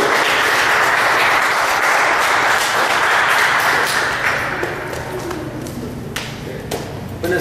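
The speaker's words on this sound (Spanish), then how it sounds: "los vamos a recibir con un aplauso" An audience claps to welcome two doctors before a talk on type 2 diabetes pathophysiology, loud at first and then thinning out and fading over several seconds.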